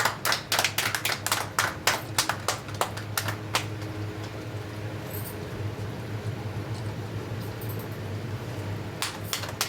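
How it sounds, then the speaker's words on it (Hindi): A small group of people at a family celebration for a student's Class 12 result claps in a quick burst of sharp, close hand claps for a few seconds, then the claps fade out to a quiet indoor background. "ताली बजा दो भाई।"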